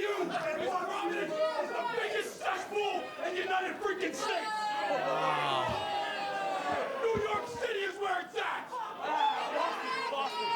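A wrestling event crowd roars, chants and shouts throughout, a dense, loud wash of voices with rising and falling swells and a commentator talking over it.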